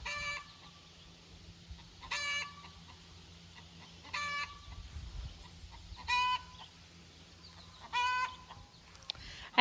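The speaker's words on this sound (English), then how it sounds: "You can hear the chickens." Chicken calls ring out in short bursts about every two seconds, fairly distant, over a low steady background hum; no talking.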